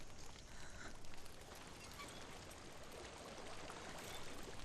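Rushing water in Hellblade, a steady broadband wash that stays faint and continuous with no gaps, with no voices over it.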